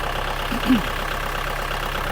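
A Kubota L5018 tractor's diesel engine idles with a steady, even rumble, and a brief faint sound rises over it once.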